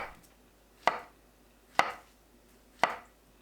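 A knife slices through a banana on a cutting board, three sharp separate cuts spaced about a second apart, close and distinct against a quiet background.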